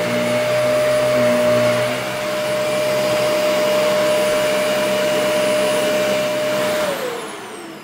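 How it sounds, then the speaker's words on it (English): A vacuum cleaner drawing about 1100 watts from a portable battery power station runs with a steady loud whine and roar, then winds down as it switches off near the end. "next is the vacuum. Let's see what this takes."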